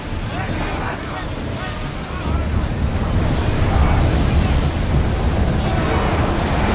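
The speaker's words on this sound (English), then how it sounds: "Feel that wind!" Wind and sea surge around a sailing ship in Assassin's Creed Odyssey, a loud, steady rush of waves and gusting wind that builds slightly partway through.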